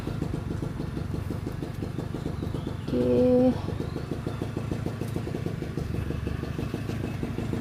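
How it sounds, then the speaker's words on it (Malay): Motorcycle engines putter steadily nearby in a rhythmic idle, with a brief sharper note midway; a voice speaks briefly. "Bising pula bunyi motor-motor ni. Banyak pula motor."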